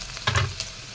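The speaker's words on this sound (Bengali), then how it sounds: "আগে একটু লাল লাল করে ভাজা হতে দিই" Onions sizzle and are stirred in a pan while being fried until reddish for a Bengali potol peel paste recipe. There is a short burst of spatter and scraping, fairly quiet and close.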